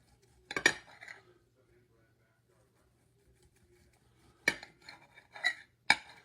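A knife cuts slices from slow-cooked crock pot meat on a plate, with a few separate clinks and scrapes of the blade against the dish, mostly near and brief, separated by a long quiet stretch.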